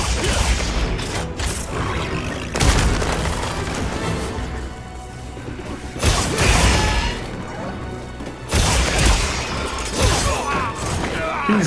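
Repeated loud crashing blasts and booming impacts from explosions in Monster Hunter Wilds, several heavy bursts a few seconds apart over a dense roar, with a voice briefly underneath.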